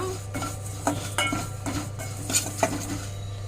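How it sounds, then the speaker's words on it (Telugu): Vermicelli frying in ghee in a pan, with a utensil scraping and clinking against the metal in irregular strokes over a steady low background hum. "సేమియాలు అయితే ఫ్రై చేస్తున్నాను"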